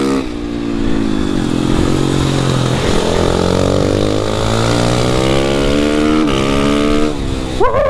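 Racing motorcycle engines roaring close by, pitch rising and falling through gear changes with a sharp rev near the end, loud and continuous.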